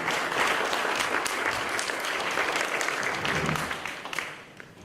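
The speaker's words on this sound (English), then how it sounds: "And you may give him a round of applause." Audience applauding at a literary book event as a guest comes on stage, a dense sustained round of clapping that stays full for several seconds and then fades away near the end.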